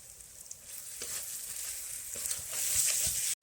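A paste of chili and turmeric with ground ginger hits hot oil in a pan for a mutton curry, and a bright continuous sizzle rises and swells louder toward the end, close and unbroken, with faint stirring scrapes.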